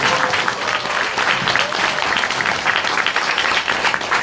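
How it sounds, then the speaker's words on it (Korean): Audience at a book talk show in Sacheon breaks into applause, loud, dense clapping from many hands that stays steady throughout with a faint murmur of voices beneath it. "박수 한번 보내주세요."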